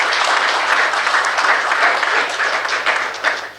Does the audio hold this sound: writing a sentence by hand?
no